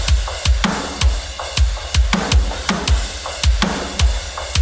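A steady programmed metalcore drum beat loops at a moderate tempo, punchy kicks and sharp snare hits with cymbals, no voices.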